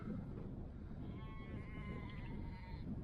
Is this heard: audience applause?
no